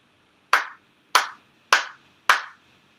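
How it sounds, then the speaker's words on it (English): Four sharp, sincere ritual hand claps sound at a Konkokyo monthly ceremony for Tenchi Kane no Kami at the Chula Vista Kōsha, evenly spaced about half a second apart in otherwise quiet surroundings. "一度拝礼 for sincere claps."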